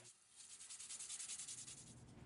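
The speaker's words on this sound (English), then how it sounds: "I'm hitting it with the 220 sandpaper again" Rhythmic 220-grit sandpaper rubbing against cow bone razor scales, quick back-and-forth strokes, close and fairly quiet, with no talking.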